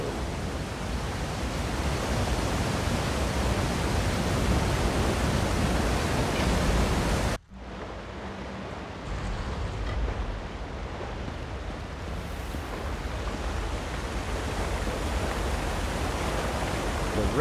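A waterfall in the Elder Scrolls Online Gold Road prologue quest pours as a constant, dense rushing hiss that cuts out for a brief instant, then returns quieter before building back to full volume.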